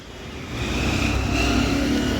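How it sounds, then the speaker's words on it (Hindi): An e-rickshaw, started by direct wiring, runs with a steady electric motor whine that swells slightly after the first half second and then holds level and close by. "तो ये तो हमारा सिस्टम हो गया डायरेक्ट का, क्योंकि डायरेक्ट हमारी गाड़ी स्टार्ट हो रही है।"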